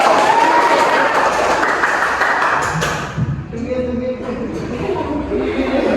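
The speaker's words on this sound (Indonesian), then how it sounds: "Oke, tepuk tangan untuk semua." A class group in a school guidance session bursts into loud, dense applause that fades after a few seconds, and a single voice then starts talking close by.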